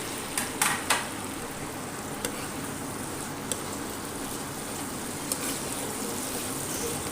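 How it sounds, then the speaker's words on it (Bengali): Fish pieces dropped into a hot homemade chili gravy give a steady, close sizzle, with a few sharp clinks and scrapes from the stirring spoon against the pan. "প্রথমে আমি মাছটা ছেড়ে দিলাম"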